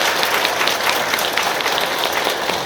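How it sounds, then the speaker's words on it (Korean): A parish congregation at a confirmation lecture gives welcoming applause, a loud, dense wash of many hands clapping continuously and close. "환영의 박수 부탁드립니다"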